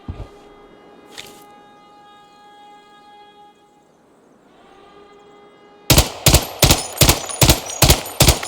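Gunfire in the mobile shooter Arena Breakout: a single shot and a second crack, a ringing lull, then a fast burst of about eight loud automatic shots in a steady rhythm, close and sharp.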